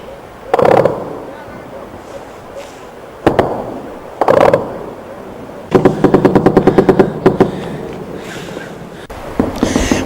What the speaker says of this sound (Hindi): पाकिस्तान की जानिब से मेंढर मनकूट सेक्टर में बिला इख्तियार गोलीबारी की गई।